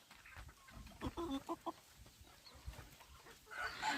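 Chickens cluck softly in short, scattered bursts at a distance, with a louder rustling noise near the end.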